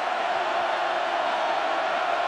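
Stadium crowd at a USC at Oregon college football game, a steady, broad roar of many voices with no distinct cheers or breaks.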